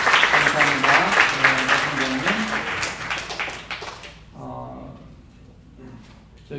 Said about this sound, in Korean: 우리 박수 환영했습니다.